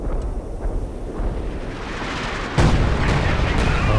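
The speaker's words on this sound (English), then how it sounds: "With assault artillery coming in" Assault artillery from the real-time strategy game Company of Heroes 2 lands in a winter battle as a steady rumble of distant blasts, then a louder, closer boom strikes and keeps rolling to the end.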